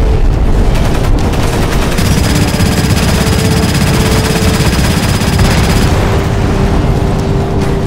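Machine guns firing in the video game Crysis Warhead: dense, continuous rapid bursts with heavy booming impacts, loud and sustained throughout, with no voices.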